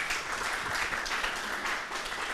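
An audience applauds in a dense, steady wash of many hands clapping, without pause throughout.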